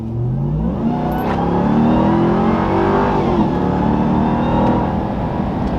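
A 2021 Ram TRX pickup's engine revs loud and close in normal mode, pitch sweeping up and settling into a steady, strong roar with no talking over it.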